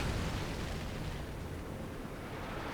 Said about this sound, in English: He drops in some flame mortar support again